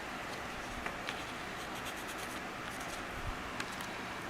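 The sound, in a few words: drawing lines on a template for motorcycle parts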